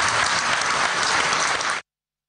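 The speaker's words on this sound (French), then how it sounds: "Je vous remets ce prix, Monsieur le Ministre, que voilà, sous les applaudissements de tout le monde." Loud, dense audience applause at an award ceremony for a prize handed to a minister, a crowd clapping steadily for under two seconds before cutting off abruptly.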